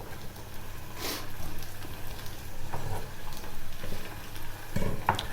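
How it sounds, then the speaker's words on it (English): Burrito ingredients frying in sizzling oil in a home kitchen, a steady crackling hiss with occasional louder pops and stirring scrapes, close and continuous. "The oil should be slightly sizzling when you pop them in."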